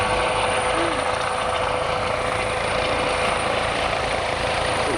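A Eurocopter EC135-derived helicopter drones steadily nearby at an RAF Cosford airshow, its engine whine and rotor thrum holding a constant, loud level throughout.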